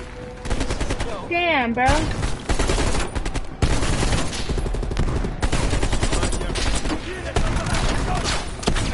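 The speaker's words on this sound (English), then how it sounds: "Please, they're shooting at us!" Dense bursts of automatic gunfire in a Call of Duty Cold War campaign fight crackle and rattle almost nonstop at close range, with a short exclamation from a player breaking in between the shots.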